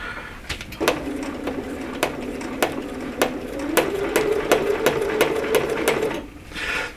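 A sewing machine stitches through a quilt with a tear-away pre-printed design, giving a close, steady run of rhythmic needle strikes with short pauses and no talking.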